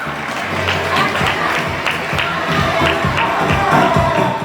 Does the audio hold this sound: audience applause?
yes